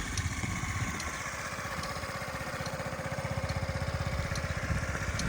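Honda Tact AF75 fuel-injected four-stroke scooter engine running steadily nearby, a continuous, evenly pulsing putter with no talk over it.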